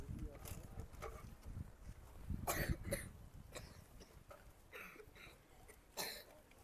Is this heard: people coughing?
yes